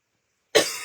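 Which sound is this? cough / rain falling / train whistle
cough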